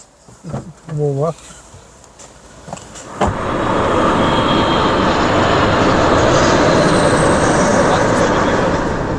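A car drives off: a few seconds of people talking, then a loud, steady broadband engine and road roar takes over and holds to the end.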